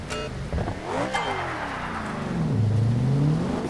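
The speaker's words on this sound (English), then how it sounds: "Hear those tires spinning up through the rain there." Car tires on slicks spin up on a wet track in the BeamNG driving game, a rising and falling whine and engine rev over a steady wash of rain, moderately loud with no talking.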